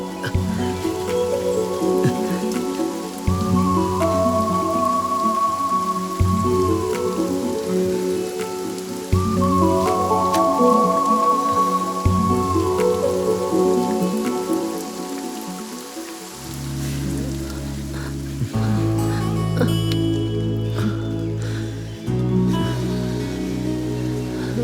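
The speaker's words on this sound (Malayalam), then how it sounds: "മഴ വരുമെന്നാ തോന്നുന്നത്" Rain falls steadily outdoors in a dense, continuous hiss of drops on surfaces, blended beneath a tonal music score throughout.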